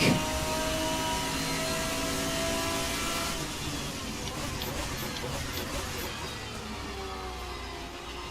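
A GT1 race car engine drones loud and steady around the Okayama circuit in the Assetto Corsa racing game. The harsh roar holds without a break and eases slightly partway through.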